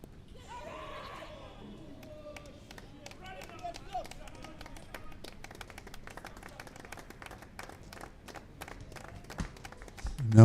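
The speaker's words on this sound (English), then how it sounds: "Now hearing the applause all around, the Jamaicans cheering on their batters as they edge closer to that total." A crowd applauds and cheers in scattered claps around a Jamaica v Guyana under-19 50-over cricket match, fairly distant and steady, while a commentator talks over it.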